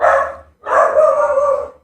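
A dog barks indoors near a pool table, loud and close: one short bark, then a longer drawn-out bark that almost turns into a howl.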